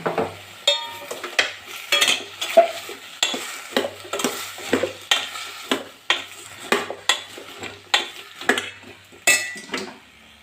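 A spoon scrapes and knocks against a metal pot in repeated stirring strokes, steady and close, with faint sizzling underneath, as turmeric is mixed into Mangalore cucumber sambar.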